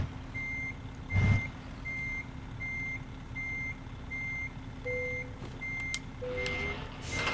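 A truck in American Truck Simulator backs up with steady, evenly spaced reversing beeps under a low engine hum, plus a brief thump early on and a few faint clicks and tones.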